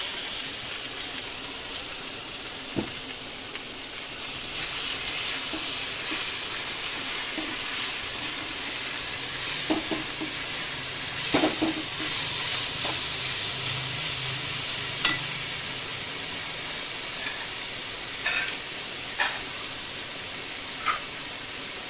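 Noté greens stir-fry in a pan, a soft, steady sizzle running throughout with scattered light clicks and scrapes of stirring, quiet and close, with no talking.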